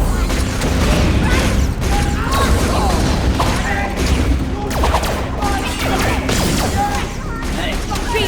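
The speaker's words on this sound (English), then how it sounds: "The turrets need to get the kills" Automated turrets in Borderlands The Pre-Sequel fire in dense, continuous bursts of gunfire with booms and mechanical clatter, loud and close throughout, mixed with game effects and a voice speaking over the action.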